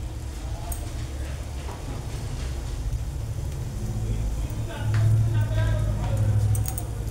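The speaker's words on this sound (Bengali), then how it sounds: "এটাকে আমি এখন ভেজে নেব।" A marinated item frying in a frying pan gives a continuous crackling sizzle with low rumbling bubbling that grows louder and busier partway through, accompanied by scattered light clatter.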